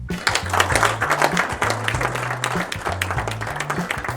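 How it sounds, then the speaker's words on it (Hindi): An audience at a Tajurba meeting claps loudly and densely, while a low musical tone steps through notes underneath the applause. "तो आपको अपने लिए जोरदार तालियां।"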